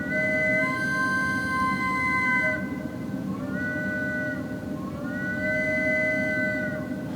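An 1881 concert hall pipe organ with partly faulty keys holds sustained, wavering chords over a steady windy hum, with tones dropping out and re-entering midway.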